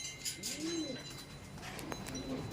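A racing pigeon gives a soft, throaty coo up close, one rising-and-falling call followed by a fainter second one over quiet background noise.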